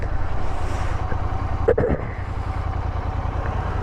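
A Royal Enfield GT 650 twin-cylinder motorcycle engine idles with a steady, close, low throbbing rumble, briefly interrupted by a small mechanical clunk partway through.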